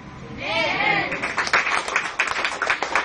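An audience at a church service breaks into applause: a raised voice rings out briefly, then a crowd of hands claps in a dense, uneven patter that swells and continues.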